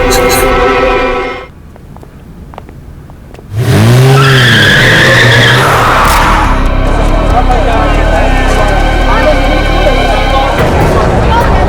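A car skids with a loud, rising-and-falling tire squeal after a brief lull, in a crime drama scene of a woman driving recklessly and drunk; engine noise and agitated voices continue underneath.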